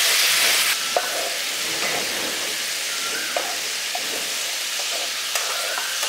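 Spice paste with chilli powder and water being sautéed and stirred in a pan for a village-style bata fish curry, a steady loud sizzle with occasional scraping stirs, no voices.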